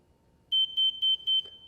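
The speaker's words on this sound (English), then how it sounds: "hold the reset button. Listen to the beep. That's a really loud beep." A Hansshow Power Frunk V5 on a Tesla Model Y sounding its reset beeps: four loud, high, evenly spaced electronic chirps in quick succession, alone against a quiet background.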